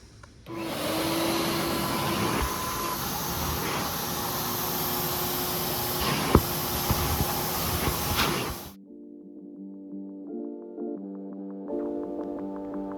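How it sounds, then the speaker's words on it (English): A vacuum cleaner runs loudly and close over the cargo mat of a 2000 Toyota 4Runner, a steady roaring whoosh for about eight seconds that cuts off abruptly and leaves quiet musical tones. "We're gonna start by vacuuming it."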